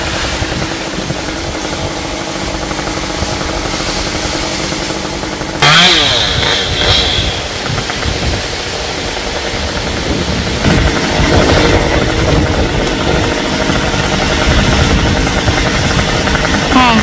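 A chainsaw trims the branches of a small star tree (cây Sao) in a cramped spot, a steady buzzing engine drone running throughout with a sharper, louder cutting burst partway through and continued revving afterward.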